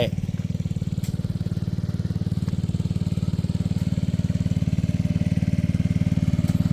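A small engine drives a water pump at a farm in the early morning, pumping water to sow rice seedlings. It runs steadily and loudly with an even, rapid pulsing throb that never changes for the whole stretch.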